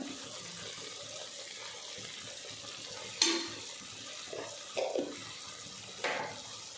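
Mutton curry with chilli powder is stirred in a pan, giving soft scraping and wet stirring sounds over a low simmer, with a few sharper clinks of the spoon against the pan.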